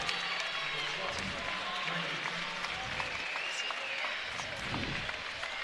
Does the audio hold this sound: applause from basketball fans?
yes